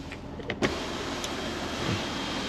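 The large panel sunroof of a 2021 Ford F-450 Platinum pickup slides closed, its motor giving a steady, even whir throughout, with a couple of faint clicks near the start.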